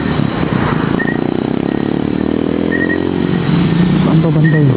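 A motorcycle engine drones steadily and fairly close, holding a constant throttle before a slight change in pitch near the end. People talk over it.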